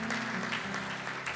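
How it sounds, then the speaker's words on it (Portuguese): A short burst of steady crowd applause at a Brazilian Army Soldier's Day tribute ceremony, with dense clapping heard over a low hum. "Mais uma salva de palmas para o Exército Brasileiro e para o soldado brasileiro."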